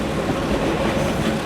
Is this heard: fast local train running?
yes